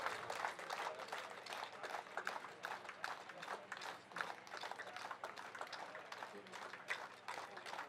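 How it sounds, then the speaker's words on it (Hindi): An audience applauds at the inauguration of a police station in Yachuli, Lower Subansiri: sustained, fairly quiet clapping from a gathered crowd, with a thin layer of voices beneath it. "तालियों से भर दीजिएगा"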